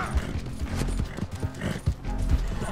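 A horse galloping in the open-world western video game Red Dead Redemption 2, rapid rhythmic hoofbeats close by with rumbling game sound around them, brief low voice mixed in.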